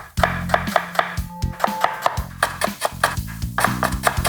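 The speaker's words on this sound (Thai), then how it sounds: "มีตะไคร้ ขากระเทียมหอมแดงเตรียมไว้เลย หั่นเป็นเป็นชิ้นเล็ก" A knife chops lemongrass and shallots quickly on a cutting board in a steady rhythm of sharp, close taps.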